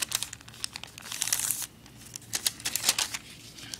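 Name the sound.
paper being folded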